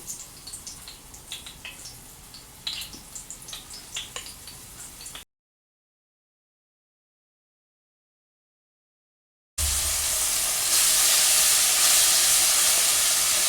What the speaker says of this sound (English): I'm going to flour the meat and put it into the skillet to fry, to brown.